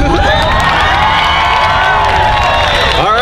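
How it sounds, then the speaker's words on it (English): A festival crowd at a cosplay contest cheers and whoops loudly and steadily for the winner, with children's shouts and scattered applause mixed into the noise. "give him a round of applause, folks"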